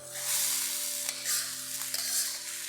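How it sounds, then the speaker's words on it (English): Rice sizzles and crackles in a hot pan while a utensil stirs and scrapes through it, close and steady. "Be gentle when you're frying the rice."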